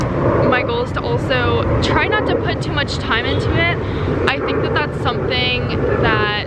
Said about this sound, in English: I'm so sorry about the plane.